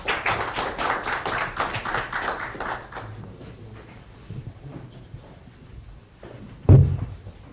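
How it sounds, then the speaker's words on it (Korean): A short burst of clapping from attendees at a Democratic Party election committee meeting in Busan fades within a few seconds, followed by quiet and a single loud thump near the end. "큰 박수 한번 치면서 격려하겠습니다"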